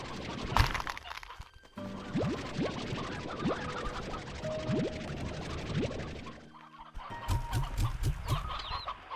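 Chickens cluck in the video game Slime Rancher 2, with repeated short clucks and scratchy calls over a busy farm ambience. They stay at moderate distance throughout, broken by a brief quiet gap before more clucking.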